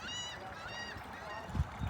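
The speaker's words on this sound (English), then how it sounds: "Gulls are going nuts." Gulls near the water at South Venice call in an excited, repeated chorus of squawking cries over steady outdoor background noise, with a couple of low thumps near the end.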